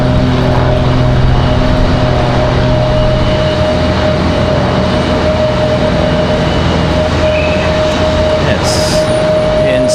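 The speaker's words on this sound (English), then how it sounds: "3245 coming in from Atlanta. It's going to be a 737-900." A Boeing 737-900 arriving from Atlanta at Raleigh-Durham airport gives a loud, steady engine roar with a sustained whining hum throughout, close and continuous, with no gaps.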